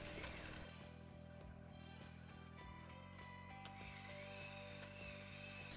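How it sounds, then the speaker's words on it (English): A LEGO Technic 42114 6x6 Volvo model with a motorized automatic transmission whirs steadily at low volume, with faint clicking gear shifts as the motor's load changes. "Once the motor has less resistance, it shifts up again."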